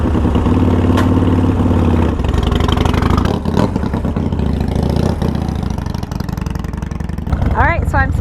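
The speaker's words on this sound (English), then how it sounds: "I'm starting out on the 1200. I've never ridden a Sportster 1200 before" A Harley-Davidson Sportster 1200 motorcycle engine idling loud and close with a steady throbbing rumble, then blipped into brief revs, while someone talks over it.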